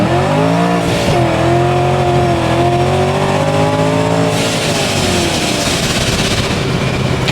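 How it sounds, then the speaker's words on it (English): Supercharged 3V Ford Mustang accelerating hard in first gear, a loud roaring engine climbing steadily in pitch with blower whine, close and continuous until a brief dip near the end. "We'll do a little first gear pull with this. This thing is insane in first."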